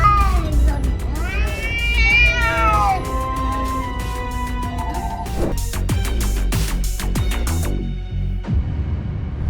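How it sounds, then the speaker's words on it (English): A domestic cat meows loudly and repeatedly, long wavering yowls close by, followed by a series of sharp knocks and thumps. "This domestic cat was able to scare off a mountain lion by just meowing."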